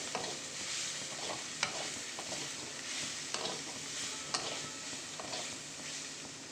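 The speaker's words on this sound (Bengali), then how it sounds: "এবার নাড়িয়ে চালিয়ে নেবো ভালো করে।" Mutton masala with broken cashews and ground ginger is stirred and fried in a pan, giving a steady close sizzle broken by a few sharp scrapes and clicks of the spoon against the pan.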